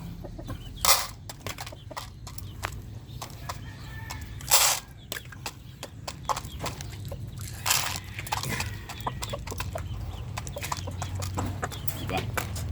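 Young roosters (stags) being fed, giving soft, scattered clucks against steady farmyard background noise, with a few brief, sharp bursts standing out loudly close by.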